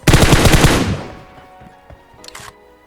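Rapid burst of automatic gunfire in the mobile battle royale game PUBG Mobile, loud and close for nearly a second, then fading into quieter scattered shots and clatter with a brief high rattle near the end.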